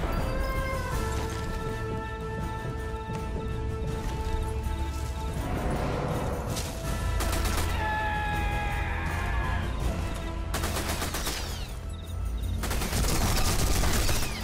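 Gunfire in the video game Sniper Elite 4, sharp shots and bursts crackling repeatedly over a sustained drone, with dense volleys clustering around the middle and end.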